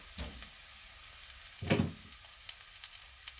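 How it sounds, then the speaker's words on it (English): Garlic sautés in a pan with a soft, faint sizzle, broken by a couple of short bursts of louder frying or stirring, close by and without voices. "We're going to saute this. You don't want the garlic to burn."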